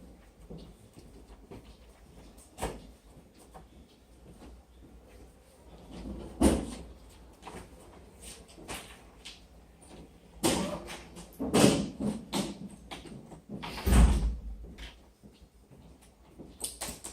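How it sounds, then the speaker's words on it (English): A door in a lecture room is closed amid handling noise: several muffled thumps and clunks spread over the stretch, with light rustling between them and no speech. "So, shall I close the door?"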